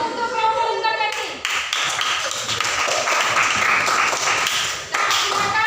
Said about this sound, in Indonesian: Aplaus untuk kelompok Linggar Jati